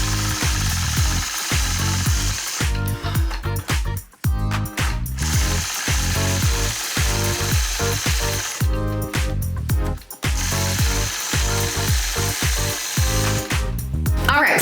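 A quilting machine runs rapid, steady stitching bursts while tracing point-to-point scallop curves across a 2-inch strip, its mechanical chatter close and loud, with brief pauses near the middle and again later.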